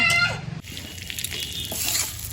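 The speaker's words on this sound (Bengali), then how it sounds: "জিরে তেজপাতা শুকনো লঙ্কা এই যে ফোড়ন দিয়ে দিয়েছি ডালটাকে হালকা করে ভেজে নিই" Cumin, bay leaf and dried chilli tempering crackling and sizzling in hot oil on a wood-fired clay stove, a bright steady fizz with a sudden sharp drop as ingredients hit the pan.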